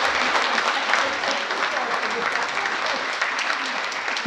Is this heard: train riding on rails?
no